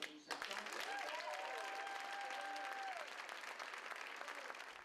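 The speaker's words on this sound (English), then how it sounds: "family members, and friends applauded the graduates for their accomplishments" An audience of judges, supervisors, family members and friends applauds drug court graduates, with sustained, dense clapping that starts abruptly and holds steady for several seconds while a voice talks over it.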